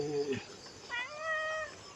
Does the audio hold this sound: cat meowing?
yes